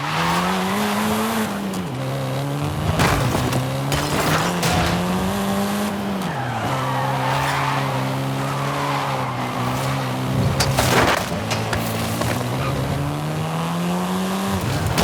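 A Volkswagen Golf R races in Forza Horizon 5, its engine note rising and dropping through gear shifts while tires squeal and skid repeatedly, loud and continuous without talk.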